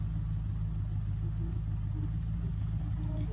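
A car engine in the survival video game Unturned gives a steady, low rumbling drone while driving, continuous and close throughout with no talking.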